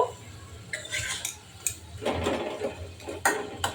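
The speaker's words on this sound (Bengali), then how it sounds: "ঢাকনাটা তুলে নিব।" A metal lid comes off a cooking pot of simmering bottle gourd chutney, with several close metallic clanks and scrapes in short bursts and no voices.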